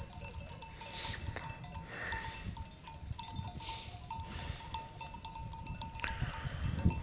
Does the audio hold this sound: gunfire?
no